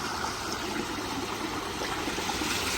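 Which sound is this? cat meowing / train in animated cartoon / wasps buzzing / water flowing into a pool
water flowing into a pool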